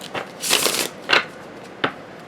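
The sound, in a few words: shuffling tarot cards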